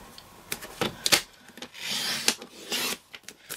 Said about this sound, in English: First, I'm going to cut it into 1-inch strip.